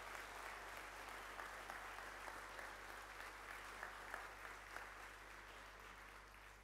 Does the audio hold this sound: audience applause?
yes